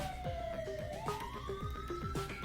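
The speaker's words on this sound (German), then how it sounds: "das sind auch die Sirenen" Police sirens wailing in the Thief Simulator video game, several overlapping rising and falling tones sounding steadily and fairly loud throughout, with no talking over them.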